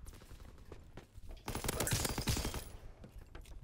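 An STG44 assault rifle fires in a video game, with a quiet rattle early on and then a louder, denser burst of rapid automatic fire in the middle before tapering off.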